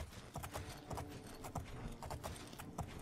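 Horse hooves gallop across terrain in the video game The Elder Scrolls IV: Oblivion, a steady, rapid clip-clop rhythm of quick hoofbeats repeating evenly throughout, fairly quiet and with no voices over it.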